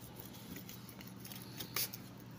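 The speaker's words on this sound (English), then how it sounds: "All right, so let's cut up the pizza." Pizza cutter scraping through a baked pepperoni pizza, a few faint short cuts under low room hiss with one slightly sharper stroke near the end.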